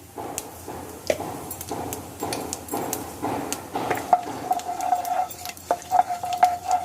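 Soft sizzling of cumin seeds in a hot pan with light scraping and stirring clatter, steady and close, no voices.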